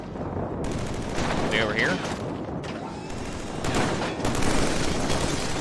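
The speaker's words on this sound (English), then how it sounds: "Concentrate your fire on the machine guns." Rapid machine-gun bursts and gunfire in the shooter Killzone 3 crackle steadily through a dense, noisy battle soundscape, with someone talking over the fight.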